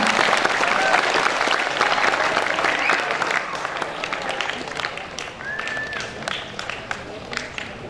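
Audience at a Quran memorization opening ceremony applauds steadily, a continuous patter of many hands that slowly thins toward the end, with faint voices and a few whistles in the crowd.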